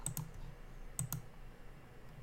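Mouse clicks while updating a logic block in a website plugin setup: two quick pairs of sharp, soft clicks about a second apart, with no voices.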